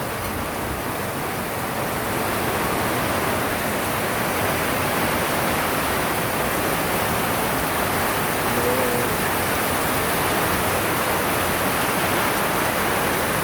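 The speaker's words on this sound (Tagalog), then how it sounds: "ang lakas-lakas ng ulan ngayon, may kasamang hangin" Heavy rain driven by wind pours down in Montalban, Rizal, a constant, loud, broadband roar that holds steady without a break and nobody speaks over it.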